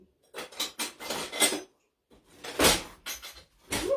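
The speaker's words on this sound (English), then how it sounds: "I'm looking for the right size measuring spoon." Metal spoons clink and rattle as a hand rummages through a kitchen drawer of cutlery hunting for a measuring spoon, two bursts of jangling separated by a quiet pause, close and alone without talk.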